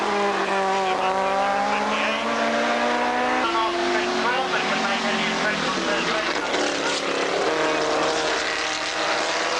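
A Lotus race car passing during a race, engine note sweeping through rising and falling pitches as cars roar by close and loud, with a commentator talking over the racing noise.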